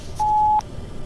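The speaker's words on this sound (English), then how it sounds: "Please leave your message after the beep." A single clean electronic voicemail answering machine beep, a steady mid-pitched tone lasting under half a second, close and clear against a quiet background.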